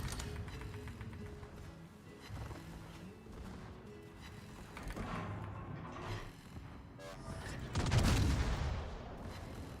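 Naval gunfire in a ship battle video game, with rumbling bursts of cannon fire and distant booms over a dense background, swelling into a heavy blast near the end.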